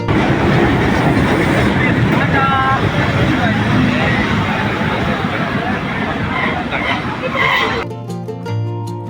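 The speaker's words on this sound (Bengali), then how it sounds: "অবশেষে ট্রেন আসছে।" A commuter train arriving at Mohammadnagar railway station rumbles and clatters steadily past amid crowd chatter, with a brief whistle-like tone, before the noise drops and music begins at the end.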